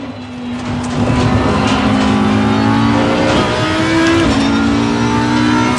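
A race car in Assetto Corsa Competizione laps the Bathurst Mount Panorama circuit, its engine loud and close, revving up and shifting through gears with a steady high whine and no talking.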